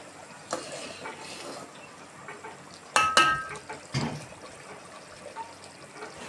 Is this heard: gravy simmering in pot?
yes